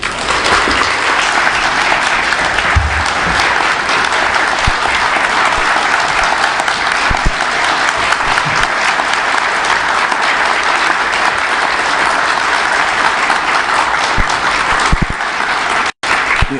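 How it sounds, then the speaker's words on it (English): A large audience at the 2022 National Information and Communications Technology Summit in Manila applauds President Ferdinand Marcos Jr. The applause is loud, dense and unbroken for the whole stretch, with no voices above it. "You mustn't applaud me that much now."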